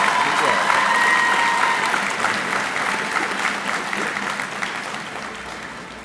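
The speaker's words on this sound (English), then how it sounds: "Give him a round of applause." Audience applause at a Houston police cadet class graduation, a dense roomful of clapping that starts loud and slowly tapers, with a voice briefly heard over it.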